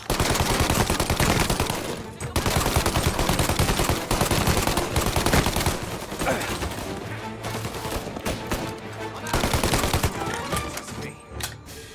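Dense, loud gunfire in the game Mafia: Definitive Edition crackles almost nonstop, with rapid bursts and overlapping shots and only brief pauses.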